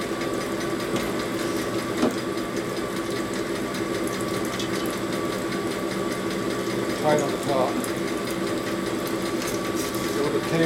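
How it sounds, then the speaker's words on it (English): Lathe or boring machine tapering the cylinder of a 1942 Harley-Davidson XA 45 cubic inch military flathead engine, a steady mechanical whir and hum running throughout with a few small clicks. "Tapering the cylinder right now"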